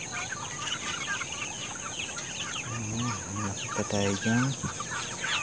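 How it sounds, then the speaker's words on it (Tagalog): Backyard chickens, a flock being treated for coryza, cluck repeatedly at close range in a farm coop. Someone speaks briefly over the birds. "Yan, mga manok."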